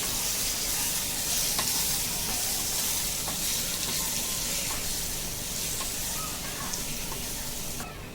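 Goat liver fries and is stirred in masala in a pan, giving a continuous moderate sizzle and hiss with faint scraping of the utensil, steady from start to finish without talk.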